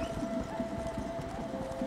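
Horse hooves clip-clopping in a steady rhythm in Red Dead Redemption, close and continuous over a faint ambient hum.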